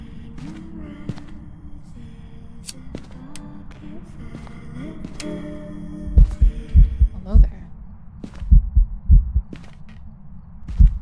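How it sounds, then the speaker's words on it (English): A throbbing heartbeat effect in the ghost-hunting video game Phasmophobia, with low double thumps pulsing in the second half, fading in and out over game hum, clicks and a brief spoken greeting. "I like how the heartbeat comes in and out every time I look around the corner."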